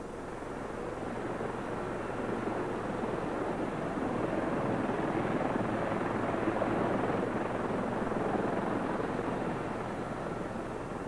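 A helicopter is heard at an offshore jackup drilling rig as a steady, broad whooshing rotor drone that swells slightly in the middle and fades again, with a wind-like rush and no talking.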